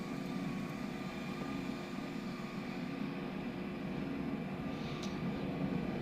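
A Boeing 787-8's engines in Microsoft Flight Simulator give a steady low drone with a constant broadband rush, unchanging and moderately quiet throughout, no talking.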